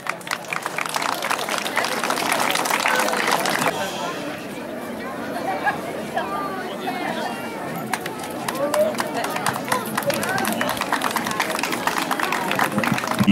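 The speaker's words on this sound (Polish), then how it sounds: "Prosimy o brawa." Crowd applause at a royal fair tournament prize-giving in Radziejów, broad clapping with crowd chatter, steady throughout with a brief dip in the middle.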